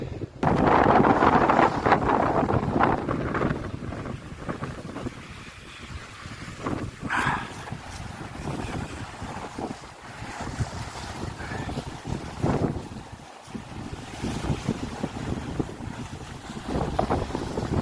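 Storm wind buffets a sailboat near a small island, gusting loudly against the microphone with surging rushes and waves slapping the hull, continuous for the whole stretch with no talking.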